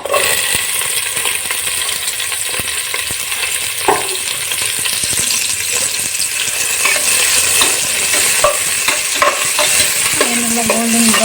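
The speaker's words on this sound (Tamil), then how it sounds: "எண்ணெய் சூடாகட்டும். கூடவே கொஞ்சம் நெய்யும் சேர்த்துக்கிறேன். இப்போ வெங்காயத்தை அதில் சேர்த்துறேன்." Onions frying in hot oil with ghee for chana pulao, a loud steady sizzle with occasional clinks of a spoon stirring against the pan, close and continuous with no talking.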